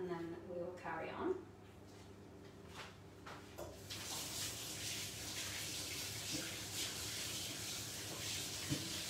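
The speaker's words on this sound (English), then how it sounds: "I'm just going to give my hands a rinse" Tap water runs steadily as hands are rinsed at a kitchen sink, a broad continuous hiss that starts a few seconds in and carries on to the end, with a voice speaking briefly before it.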